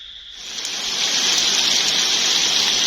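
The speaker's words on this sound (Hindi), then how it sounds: "अभी भी बारिश जो है ना जोरों शोर से लगी हुई है, बरस रही है।" Heavy rain pours down in a dense, steady hiss that swells in quickly and holds loud and close, with no voices.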